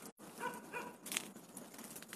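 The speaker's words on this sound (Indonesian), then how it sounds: "Itu suara anjing masih ngegonggong-gonggong aja" A dog barks faintly in the distance a few times around an old air traffic control tower at Kemayoran airport, thin yips against quiet background noise.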